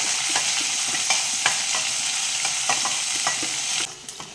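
Onion, curry leaves and green chili sautéing in a pan, a loud close sizzle broken by rhythmic spatula scrapes and stirs, dropping suddenly quieter near the end, with no talk.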